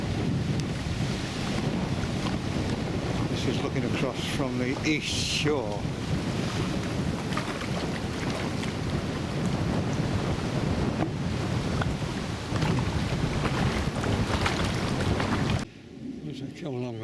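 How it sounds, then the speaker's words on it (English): Strong wind buffets the microphone over choppy water on a lagoon during squally rain showers, steady rushing gusts and lapping surf throughout, with a voice talking over it before the wind noise drops near the end. "real chop on the water now."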